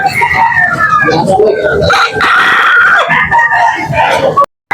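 A rooster at a chicken market in Carbon, Cebu crows loudly and close, with someone talking over it and other birds clucking in the background.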